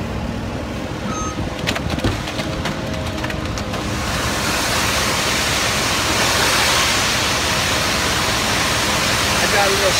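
Concrete poured from a truck down its chute, a low mechanical rumble with scattered knocks that gives way after a few seconds to a loud, steady, close rushing slide of wet material.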